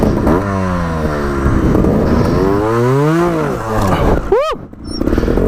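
A 2018 Scorpa trials motorcycle engine revs hard and climbs in pitch, dips and rises again, then snaps sharply up and cuts off near the end; loud and close, with no talking.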